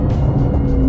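A car on a race track gives a steady, loud, close engine rumble with a deep low drone throughout a brief moment.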